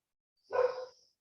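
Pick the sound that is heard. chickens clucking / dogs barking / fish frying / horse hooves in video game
dogs barking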